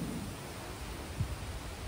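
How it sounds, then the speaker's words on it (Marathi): Heavy rain pouring down in a village, a steady broad roaring wash of noise close and fairly loud, with a faint low thump partway through. "जोरदार पाऊस आलेला आहे."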